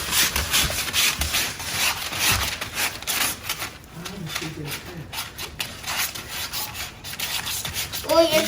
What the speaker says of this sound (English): So you get a sander, and you can fold it if you want, and you just rub it on